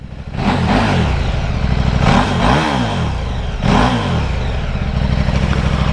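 A stock motorcycle without an aftermarket exhaust revs in three strong surges, its thin, somewhat weak engine note rising and falling close to the microphone with a steady mechanical clatter underneath.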